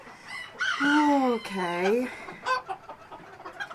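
A Sebright rooster crows loudly and nearby with a rising-falling call, followed by short clucks from chickens, while someone speaks briefly.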